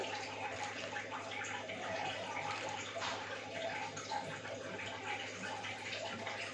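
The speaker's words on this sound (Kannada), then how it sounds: "ಈ ಬೌಲಲ್ಲಿ ನಾನೊಂದು ಎರಡು ಬೌಲ್ ನೀರು ಹಾಕ್ತೀನಿ" Water poured from a bowl into a cooking bowl while making radish curry in a home kitchen, a steady continuous splashing pour filling the whole stretch with no talk.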